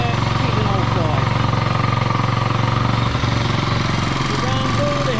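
An old motorcycle engine runs at a steady, slightly tappety idle, a loud continuous rhythmic chugging that holds throughout.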